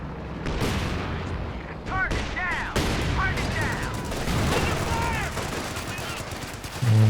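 Paratrooper machine gun fire in the Company of Heroes 2 battle, sustained bursts of automatic gunfire mixed with booms and explosions over a busy battlefield, with other weapon sounds and music layered in.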